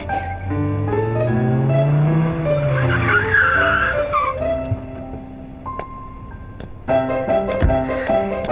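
A car accelerates hard as its tires squeal in a long, loud, pitched screech that rises and falls, followed by engine revving and a sharp thud near the end.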